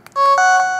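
Keypad tones from an LG GS155 mobile phone as a security code is entered: a few short, loud electronic beeps in quick succession, then a sustained tone, with no talking.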